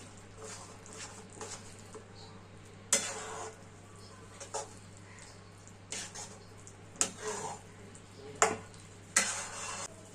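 Pea dal with bottle gourd greens being stirred in a pan after a splash of mustard oil: a steady low hum under soft scraping, with sharp spoon knocks against the pan every second or two, close and fairly loud.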